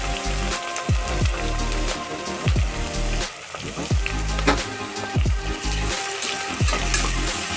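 Sliced onions and green chillies fry in hot oil in a pan, making a dense, continuous sizzle and crackle like heavy rain, close and fairly loud throughout.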